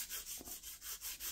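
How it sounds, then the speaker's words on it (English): Fine sanding of a wooden RC boat stringer with a sanding block, giving soft rhythmic back-and-forth rasping strokes, about six passes, close and fairly quiet with no talking. "then I did some fine sanding with a sanding block like this"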